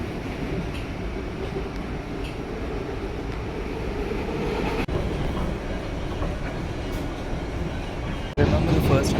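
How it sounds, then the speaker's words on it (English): A PATH commuter train rumbles steadily with a low, continuous roar and faint clicks, the sound rising sharply near the end, while a person talks over it. "this is the first and only train that I have to take for campus right now"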